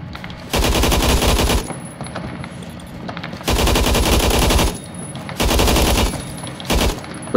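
AUG HBAR rifle fire in the shooter game Phantom Forces: three long sustained full-auto bursts and a short final burst, loud and close, with brief gaps between them.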